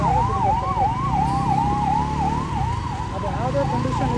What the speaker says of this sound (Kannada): ಆಂಬುಲೆನ್ಸ್ ಹೋಗ್ತಿದೆ, ಜಾಗ ಬಿಡಬೇಕಂದ್ರೆ